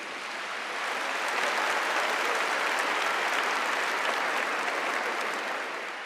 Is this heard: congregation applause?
yes